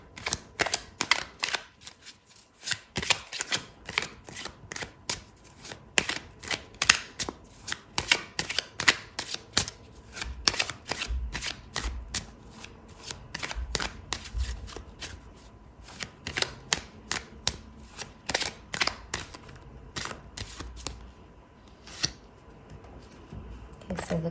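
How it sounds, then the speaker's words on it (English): Tarot cards being shuffled during a Scorpio love tarot reading, a long run of crisp riffling flutters and soft slaps repeating near the listener in uneven bursts, with no talk over them. "Okay, so I'm going to pull out another card for you,"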